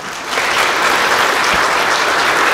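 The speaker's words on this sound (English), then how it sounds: "Give them a round of applause." An audience at an Easter Sunday 2015 church service breaks into applause for people on stage, dense continuous clapping that swells quickly and holds loud and close.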